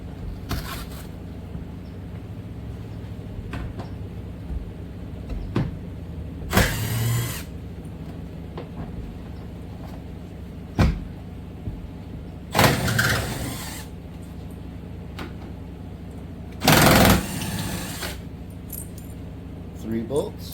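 A Milwaukee power tool removes roof bolts from a Jeep Gladiator in a small garage, with three short, loud whirring bursts spaced several seconds apart and light clinks and handling noises between them.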